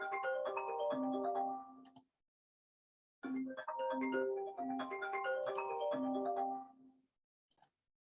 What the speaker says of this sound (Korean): 방금 조금 벨소리가 중간에 들어서